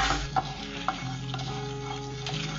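Coriander seeds, black pepper, fennel, cumin, dal and dried red chillies dry roasting in a pan: soft continuous sizzling with light crackles and a few stirring scrapes, close and fairly quiet, no talking.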